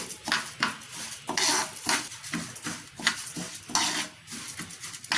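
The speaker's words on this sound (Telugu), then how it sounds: "అవిసె గింజలు ఇలాగే వేయించుకోవాలి" Flax seeds dry roasting in a pan without oil, stirred with a utensil in repeated scraping, rattling sweeps that rise and fall in bursts, close and fairly loud with no talk.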